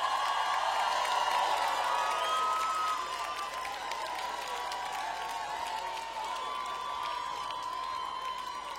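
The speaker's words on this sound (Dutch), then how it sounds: "Maar nu wil ik nog een keer een heel groot applaus." Audience applause at the 2019 TVK teen carnival song contest: sustained crowd noise with clapping and cheering filling the space, loud at first then settling slightly, with a tonal ringing sound running through it.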